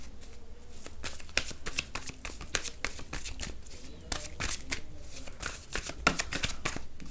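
Close, soft riffling and flicking of tarot cards as they are shuffled and pulled from the deck, a busy irregular patter that stays quiet throughout.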